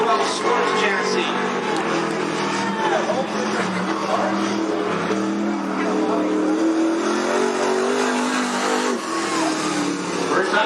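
A crate late model race car at Cottage Grove Speedway rolls down the track, its steady engine drone continuous and moderately loud throughout, with a race announcer talking over it.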